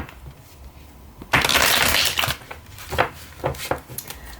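A deck of cards shuffled quickly by hand, a loud riffling burst followed by a few lighter card flicks and taps, close and alone without talk.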